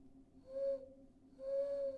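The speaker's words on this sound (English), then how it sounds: "When I heard that owl hooting," Two drawn-out owl hoots sound in a dark yuri visual novel set in dense woodland, each a steady tonal call, fairly faint against a quiet background.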